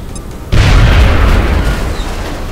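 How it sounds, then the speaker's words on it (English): A grenade explodes in XCOM: Enemy Within with a sudden loud, close boom. The blast gives way to a sustained roaring rumble that slowly fades. "Yeah, let's just throw a grenade."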